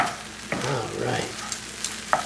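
Scrambled eggs with caramelized onions, mushroom and garlic pushed around a hot pan for kasha, a low sizzle with a few brief spatula scrapes and knocks, close and moderately quiet, no speech.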